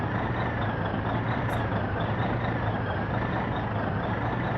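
Gifu truck being driven in the game My Winter Car, a steady low engine drone with road rumble, continuous and fairly loud throughout with no talking.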